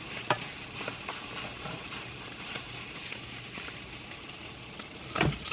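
Cubed steak browning in a pan, a steady low sizzle with scattered scraping clicks of stirring and a louder clatter near the end, no voices.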